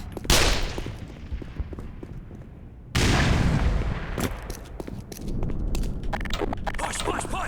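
In the Black Mesa video game, a grenade goes off with a loud, close boom, followed by a second blast and a scatter of gunfire cracks.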